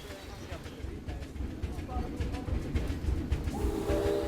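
A toy train ride in the zoo-building game Planet Zoo: a steady rhythmic rumble and clatter of rail wheels moves along, with birdlike chirps and a brief whistle-like tone near the end.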